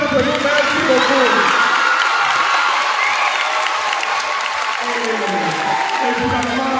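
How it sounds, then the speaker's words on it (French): A congregation at a parish school-opening mass gives loud, sustained applause with cheering and voices mixed in, a full, steady roar close by for the whole stretch. "On applaudit pour chacun d'entre nous"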